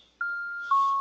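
A phone ringtone chimes alone in a quiet room as a steady sustained electronic tone that steps up to a higher pitch partway through, moderately loud and close.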